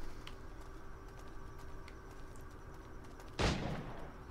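A single gunshot rings out in the video game Assassin's Creed 4 Black Flag, one sharp, fairly loud crack near the end with a short decaying tail, following quiet ambient game sound with faint taps.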